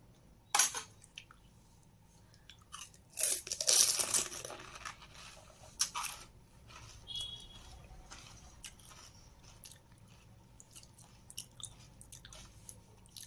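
Crunching and chewing of homemade fuchka (pani puri) filled with tangy tamarind water, a few sharp close crunches early then softer intermittent chewing and squishing, quiet between bites.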